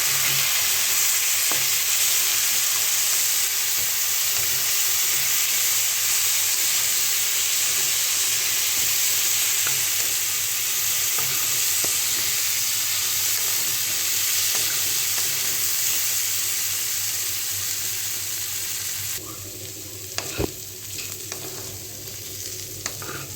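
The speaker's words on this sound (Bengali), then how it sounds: "ডালটা সুন্দর একটু ভাজা হবে" Lentils sizzle and crackle in a hot pan, a steady, close frying hiss for most of the clip, with a few utensil clinks and stirring near the end.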